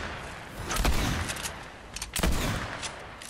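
A couple of loud gunshot bursts in Fortnite Zero Build, close and booming, separated by a short pause, over steady game ambience with no talking.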